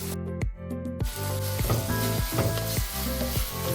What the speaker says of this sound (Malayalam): നമുക്കെല്ലാം ഒരുമിച്ച് തന്നെ വഴറ്റി കൊടുക്കാം